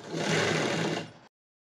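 An electric sewing machine runs in one short steady burst while stitching around the edges of a fabric sleeve, whirring loud and close before stopping abruptly.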